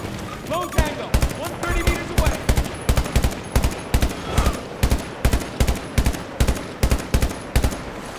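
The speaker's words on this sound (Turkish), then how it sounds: "Adam gözüküyor sıkıyorum vurmuyor ama." Automatic weapons fire in a Battlefield 2042 match, loud, rapid bursts of shots repeating in a steady rhythm through most of the clip, with a player talking faintly in the background.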